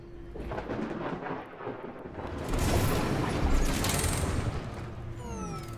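A rainstorm in the video game Parkitect hisses continuously while thunder rumbles and rolls through it, swelling louder in the middle, with a few faint chimes at the end.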